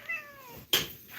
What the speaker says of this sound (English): But yeah, that's a cat.